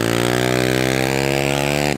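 A mini motorbike engine revs hard and steady while stuck in thick mud, a loud buzzing drone held for about two seconds with no talk over it.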